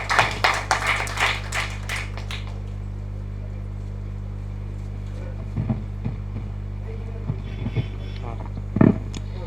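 An audience at a Tamil devotional talk claps to welcome the speaker: a brief burst of scattered hand claps at the start fades out within a couple of seconds, leaving a steady electrical hum and a few isolated taps.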